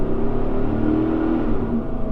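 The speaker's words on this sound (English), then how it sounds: "speaking of that throaty exhaust note, we're going to go ahead and merge onto the highway" A 2007-2014 third-generation Chevy Tahoe merging onto a highway, its throaty exhaust holding a steady, loud low drone as it accelerates, with no talking.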